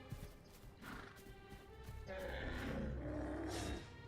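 A horse neighs inside a survival video game with unfinished map areas, a drawn-out whinny under steady game ambience, with faint hoof clopping earlier.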